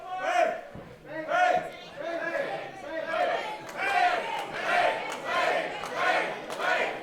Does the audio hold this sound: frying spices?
no